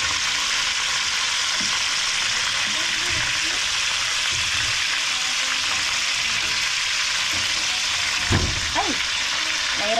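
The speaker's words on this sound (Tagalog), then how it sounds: "pabaliktarin na natin yung ating pinirito na bango" Mango being pan-fried and flipped at home produces a steady broadband sizzle throughout, with a few soft clatters of turning near the end and faint voices in the background.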